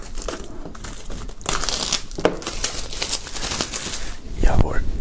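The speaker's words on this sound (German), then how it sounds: "Wir werden mal die Folie abmachen" Plastic shrink film crinkles and tears as it is peeled off a boxed music set, in repeated close, crackling bursts with brief pauses between them.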